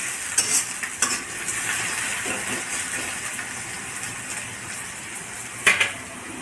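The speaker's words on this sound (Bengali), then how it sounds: "পেঁয়াজটা লাল লাল করে একটু ভাজা হবে।" Onions fry in hot oil until reddish, giving a continuous near sizzle broken by a few louder spatters and stirring taps.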